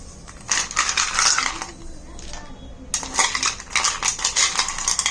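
Ice cubes clatter into a container of homemade watermelon juice in two bursts of bright clinking and rattling, loud and close, separated by a short pause.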